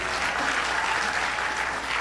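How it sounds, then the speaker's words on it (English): Steady, dense applause from a crowd at a university graduation ceremony in Thika, loud and continuous with no voices standing out. "A better round of applause for our team."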